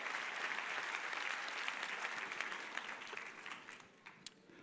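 A church congregation applauds, with dense clapping that starts full and loud, then thins and fades over a few seconds as scattered claps trail off.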